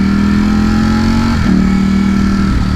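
A Ducati Streetfighter V4S motorcycle engine drones loudly and close up while accelerating, a steady growl with a brief pitch dip partway through before pulling on again.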